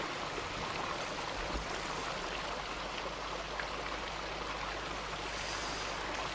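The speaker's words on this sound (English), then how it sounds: "This beautiful little creek here" A small creek at Purangi in Mercury Bay, New Zealand, flowing steadily as a broad, even wash of running water with no distinct splashes, moderately loud and without voices.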